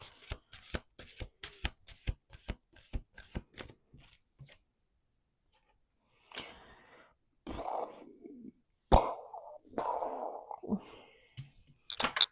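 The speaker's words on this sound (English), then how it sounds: "1 more shuffle. 1 more shuffle. Last shuffle." A deck of tarot cards is shuffled up close in a rapid run of crisp, evenly spaced card snaps, followed after a pause by softer handling rustles and a few brief words.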